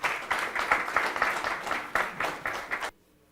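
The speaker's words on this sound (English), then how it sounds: "Please join me in welcoming him with a big round of applause." An audience at a gathering of forest officers applauds to welcome the chief guest, a steady round of clapping with rhythmic surges that stops abruptly into near silence.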